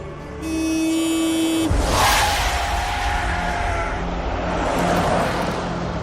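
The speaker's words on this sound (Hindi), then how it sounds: "गाड़ियां आती जाती रही अगल बगल से" Cars on a road rush past one after another, a loud broadband whoosh swelling and fading close by, with a sustained tonal hum early on; no talking.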